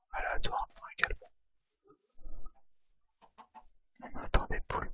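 Minecraft chickens give short clucks while a whispering voice talks softly in French nearby.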